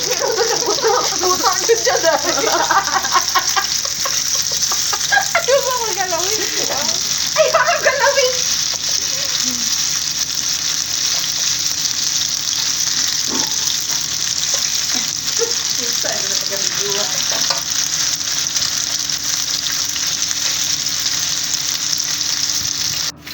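Kofta frying in a small amount of oil, giving a steady close sizzle with crackling bursts throughout, while a voice talks over it.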